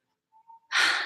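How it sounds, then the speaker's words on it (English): A single deep, breathy inhale during a breathing exercise for singers follows a brief soft exhale. The intake is loud and close, rushing steadily for about half a second. "Just take a good, long breath. Breathe out first. Now breathe in."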